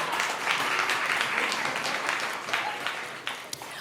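An audience claps together in a steady, dense burst of applause that holds for a few seconds, heard from across a room.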